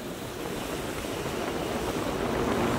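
Strong wind and waves buffet a ferry on the Padma river, a continuous rushing roar of gusts and water that swells slightly louder toward the end, with no talk.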